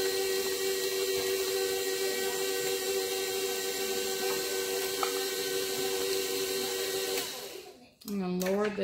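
A stand mixer with a paddle beats pound cake batter with a steady, loud motor whine, then cuts off near the end as a voice starts talking.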